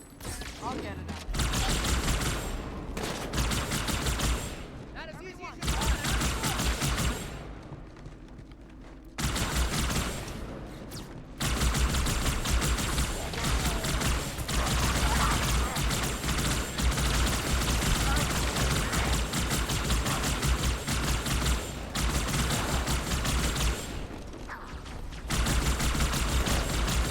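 Sniper rifle shots in Halo 2 on a gaming session, a run of sharp, loud cracks separated by brief gaps amid game sounds, with a player talking underneath.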